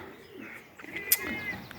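Racing pigeons at a loft coo softly on a day of rest after a race, low murmuring calls with a brief chirp, fairly faint and without talk.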